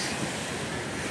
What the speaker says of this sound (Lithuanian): Atsiprašau už tokį garsą, kadangi girdisi jūra.